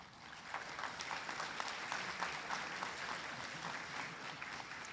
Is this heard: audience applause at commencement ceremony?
yes